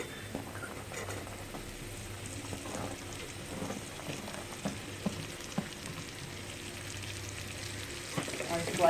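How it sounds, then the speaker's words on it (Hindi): Cut okra fries in a pan for crispy bhindi bhujia, a soft steady sizzle with faint patter and occasional light stirring taps. "अब हम इसमें सारे कटे हुए भिंडी डाल देते हैं।"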